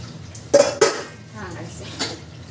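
Pots, pans and dishes clank while being washed: two sharp metallic knocks close together, then a lighter clatter, close by, with people talking.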